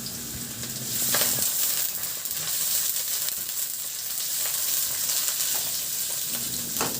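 Ginger sautéing in hot oil in a pan for a fish dish, a steady bright sizzle and crackle with occasional stirring scrapes, close and continuous with no talking.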